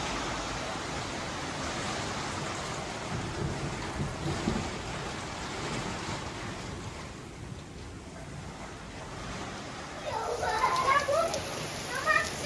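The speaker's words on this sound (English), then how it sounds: "Next thing we know, it was a downpour right in the middle of all of it." A heavy downpour with thunder hits outdoors near a car being worked on, a loud, dense roar of rain with deep rumbles, swelling toward the end as voices briefly come through.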